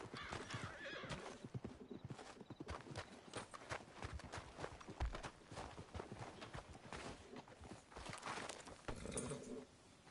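Horse hooves clip-clop in Red Dead Redemption 2, a quick uneven trot of close, sharp hoof strikes, with a horse neighing partway through.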